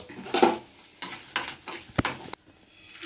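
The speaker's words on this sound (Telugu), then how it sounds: "ఆయిల్ పోసుకుంటున్నా ఎండుమిరపకాయలు" Dried red chilies frying in oil in a pan give bursts of sizzling and crackle, mixed with metal utensil clatter and stirring scrapes, close and uneven, then quieting at the end.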